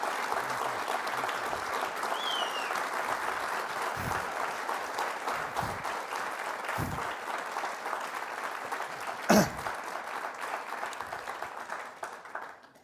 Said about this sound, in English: Could we have a round of applause for these two amazing people?